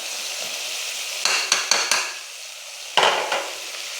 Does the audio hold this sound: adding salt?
yes